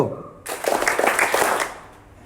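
A group of children clapping hands together once in an attention game, a short ragged burst of claps that quickly fades.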